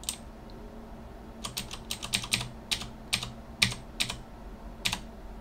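Computer keyboard keys being pressed, a quick series of soft, close clicks in irregular bursts over a faint hum, with no voices.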